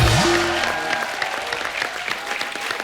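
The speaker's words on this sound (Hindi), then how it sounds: "जोरदार तालियां।" A studio audience at a comedy talk show bursts into loud, dense applause that fills the clip, with a brief tonal sound at the start and the clapping easing slightly toward the end.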